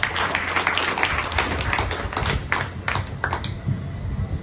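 An audience at an Arya Samaj courtyard gathering applauds in a dense, continuous patter of clapping hands that holds steady for several seconds.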